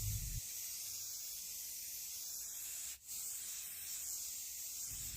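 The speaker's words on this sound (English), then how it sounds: "We're going to give these a coat of spray paint with this beautiful coastal sage color" Spray paint hisses from an aerosol can in coastal sage color onto Dollar Tree craft pieces, one long steady spray with a brief break partway through, close and alone.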